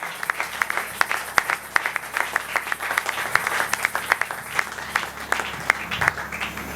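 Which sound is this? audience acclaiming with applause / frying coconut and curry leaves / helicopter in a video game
audience acclaiming with applause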